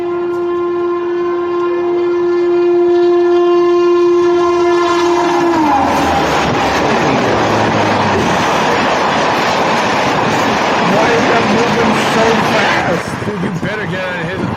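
A train horn blares in a long, steady, loud chord, then gives way to the roaring rush and rattle of the train speeding past a station, close and sustained, with excited voices over it.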